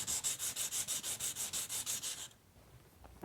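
A metal pendant piece is rubbed up and down into place, a close, loud, rhythmic scraping of about fourteen even strokes, then it stops and leaves a faint hush.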